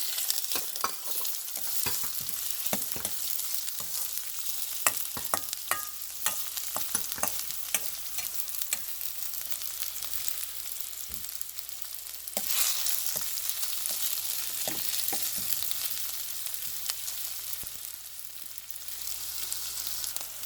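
Green chillies, curry leaves and vegetables sauté in a pan with a constant close crackling sizzle, dotted with frequent spatula scrapes and clicks throughout, no voices.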